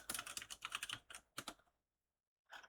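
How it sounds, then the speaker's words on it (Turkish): Fast typing on a computer keyboard, close and crisp, in a quick flurry of keystrokes, then a short pause and a final small burst of key presses. "Buraya yazıyorum Red Dead Redemption diye"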